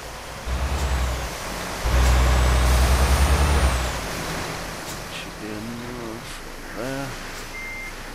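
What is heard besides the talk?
Iveco 8x4 truck reversing in Euro Truck Simulator 2 video game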